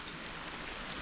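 Steady hiss of rain falling, an even wash of droplets with no voices, brief and fairly quiet.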